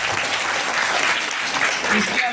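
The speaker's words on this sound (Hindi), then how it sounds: "चलो तालियां।" Steady applause from a crowd at a school prize-giving ceremony fills the moment evenly, a dense patter of clapping with no pauses.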